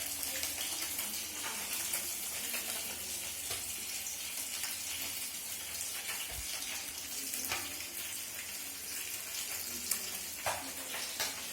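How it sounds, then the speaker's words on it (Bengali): Fish fries in a pan with a soft, continuous sizzle and occasional faint pops, fairly quiet and steady throughout, with no talking. "মাছটা ভাজতেই হবে"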